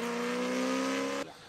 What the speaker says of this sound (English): This car has a completely straight-piped custom titanium exhaust.